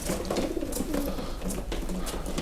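Pigeons coo inside a breeder's pigeon loft, soft low repeated cooing calls from several birds close by over a constant airy background hum.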